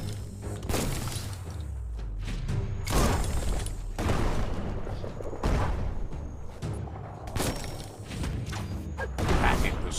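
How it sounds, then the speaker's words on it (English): Bomb lobber explosions in the Biomutant video game: a series of loud, shattering blasts at regular intervals, each a sharp crash with debris, close and dominant, with little talk. "That's a bomb lobber."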